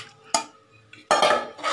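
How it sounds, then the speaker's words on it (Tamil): Washed chicken pieces tumble into a pot for Thalappakatti-style chicken biryani and get stirred, with two bursts of clattering metal and wet scraping close up. "இப்போ வந்து நம்ம கழுகி வச்சுருக்க கறியை போட்டு நம்ம பரட்டி விட்டுறலாம்."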